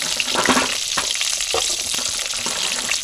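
Shallots and garlic sautéing in oil for a mutton curry, a loud, close, continuous sizzle with crackling pops and a few stirring scrapes mixed in.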